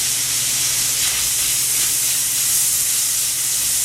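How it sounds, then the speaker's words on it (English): Bacon starting to render in two tablespoons of oil in a pan on high heat gives a loud, steady hiss and sizzle that stays even and unbroken throughout. "I'm going to add 2 tablespoons of oil just to start that bacon, start letting it render."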